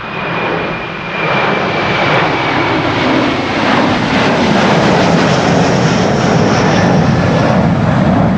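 A jet airliner climbs out after takeoff from Amsterdam Schiphol, its engines producing a loud, continuous roar that swells slightly and stays strong to the end.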